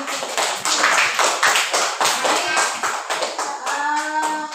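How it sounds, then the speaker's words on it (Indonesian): Classroom group clapping hands together in a lively, slightly uneven rhythm, close and fairly loud for several seconds, with a few voices and faint tones coming in near the end. "Kasih tepuk tangan dulu."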